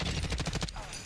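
Gunfire in the video game Black Ops 6, a quick run of rapid shots over about two-thirds of a second, then trailing off under game noise.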